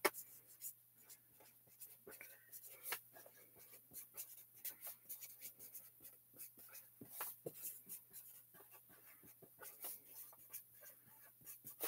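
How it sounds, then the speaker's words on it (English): A pen scratches across paper at a craft table, a quiet, close run of rapid short strokes and taps that continues steadily throughout. "I'm going to write this down"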